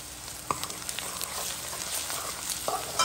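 Shrimp and brinjal fry in a pan, a constant close sizzle with sharp scraping taps as the mixture is stirred.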